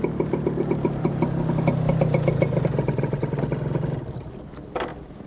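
A motorcycle engine idles steadily nearby with a low throbbing hum and light clatter, then fades down toward the end as a brief higher sound cuts in.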